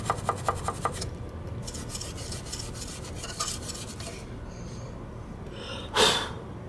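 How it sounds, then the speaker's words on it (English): Scooter being scrubbed with a small piece of sandpaper during detailing, starting with a quick run of rhythmic rasping strokes, then softer intermittent rubbing and one sharp scrape near the end, close and dry with no speech. "Might have to get a little piece of sandpaper and go in there to get that area."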